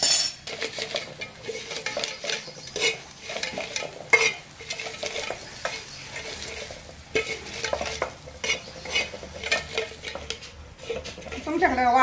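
Repeated dull pounding and scraping of a copper pot crushing raw peanuts, with clinks of utensils, steady and close, no talking.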